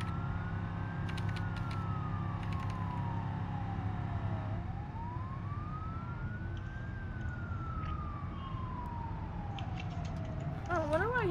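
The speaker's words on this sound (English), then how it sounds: "Sirens." An emergency siren wails slowly up and down in long sweeps over steady traffic rumble, sounding a little distant, with a faster warble at the end.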